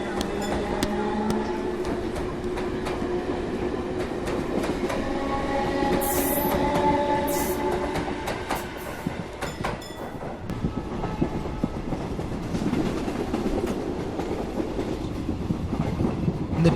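A train rumbles along the rails with rhythmic clacking and occasional high metallic squeals, steady and fairly close, with faint voices in the background.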